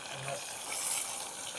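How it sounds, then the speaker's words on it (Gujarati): Spiced oil sizzles in a pot for a vaghar tempering while masala rice is cooked on a stove, giving a soft, steady, faint hiss with a gentle stirring texture throughout. "વઘાર છે"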